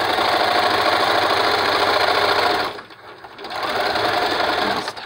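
A sewing machine chain-sews medical mask covers with a fast, loud, steady whirring hum, briefly slowing and dropping in level partway through before running at full speed again, close up and without talk.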